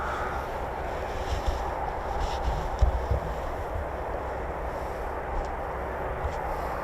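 A Eurofighter Typhoon jet passes over RAF Coningsby as a steady, distant roar with a rumbling low end that holds evenly throughout, rising only in brief bumps.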